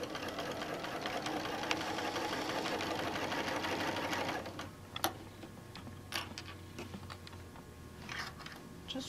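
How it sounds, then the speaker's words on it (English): A sewing machine stitches around a quilt-as-you-go tote bag, running in a close, steady mechanical whir for about four seconds, then stopping and leaving scattered handling clicks and taps. "we're just gonna sew around"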